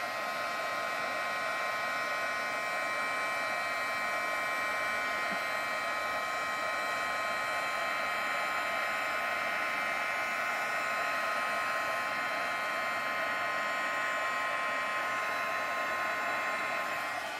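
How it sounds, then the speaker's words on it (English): A heat gun blows steadily on paper, giving an unbroken, even whooshing hiss with a faint tonal whine that holds at the same loudness throughout, close by and alone. "I'll just take the heat gun, heat away."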